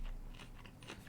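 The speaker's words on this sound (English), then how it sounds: "Apparently the microphone picks up on my chewing noises" Faint, close chewing with soft crunchy bites picked up by a desk microphone, a few irregular mouth noises over quiet background hiss.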